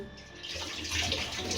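Tap water runs steadily into a sink as a mother washes up at home, a continuous splashing rush that grows slightly fuller midway, close by with no talk.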